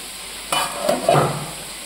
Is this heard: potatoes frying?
yes